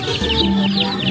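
A chicken clucks steadily at close range, a continuous run of short throaty calls with no talking.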